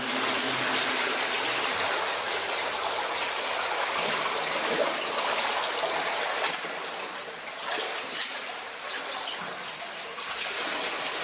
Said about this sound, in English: See if we can get the water flowing on that top one